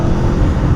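Engine of a 2022 Aprilia Tuono V4 Factory motorcycle snapping to the throttle, a loud, close, gruff low roar held steady for a brief moment with no talk over it.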